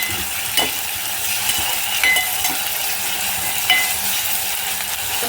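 Curry leaves and ginger-garlic-chilli paste sizzle steadily in hot oil for a prawn masala, a loud continuous hiss with a few soft stirring clinks and pops.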